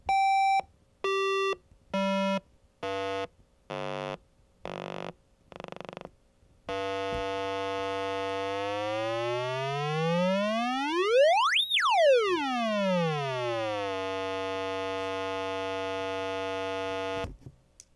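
A 555 timer circuit driving a chain of flip-flops gives electronic square-wave tones: a run of short beeps stepping down in pitch, then a long continuous tone sweeping downward in octave steps with a brief high glide midway, loud and alone.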